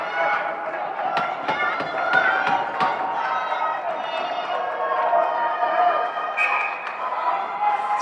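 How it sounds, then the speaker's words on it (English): Spectators at a high school girls' hockey game in Concord, an indoor rink, keep up a steady roar of excited cheering and chatter, with scattered sharp knocks of sticks and puck cutting through the crowd noise. "Excited crowd here in Concord."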